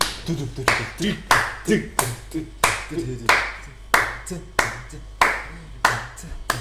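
Hand clapping in steady time to a song in a live studio show, sharp regular claps in a repeating rhythm with faint voices and sound in the background between them.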